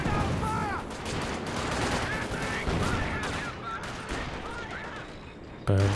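MG34 machine guns fire during a Company of Heroes 2 battle, with rapid bursts and layered gunfire running under a caster's steady talk, joined by other weapon sounds across a busy fight.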